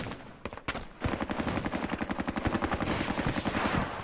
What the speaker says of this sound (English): I just want to fire at these guys.